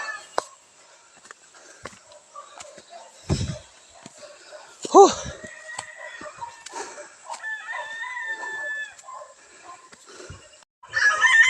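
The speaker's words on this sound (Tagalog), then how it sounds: "Medyo may naririnig na tayong mga nagtitilaok na mga manok" Roosters crowing at a distance on a gamefowl farm in Benguet, several long calls spread through outdoor background noise, with a brief clucking burst and scattered sounds in between.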